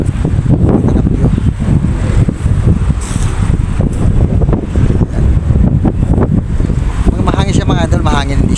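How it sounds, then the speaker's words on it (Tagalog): Strong wind buffets the microphone at a Philippine seaside spot, a loud continuous rushing roar with gusty surges, with faint voices mixed underneath. "Mahangin siya mga idol, mahangin"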